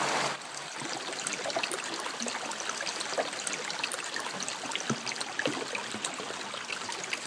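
A small creek flows and trickles nearby, a steady bright babble with tiny splashes throughout and no voices.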